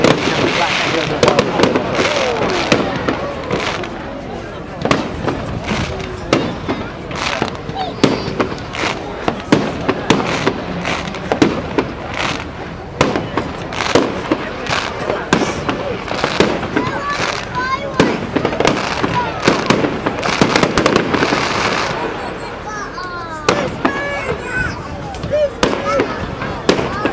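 Bonfire Night fireworks go off in loud, rapid bangs and crackles, each echoing back off nearby surroundings, with whistling rockets and occasional voices amid the steady barrage.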